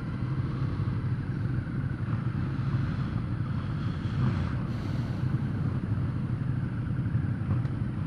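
A Ducati motorcycle is being ridden, with a steady low engine drone under heavy rushing wind that stays constant and close throughout.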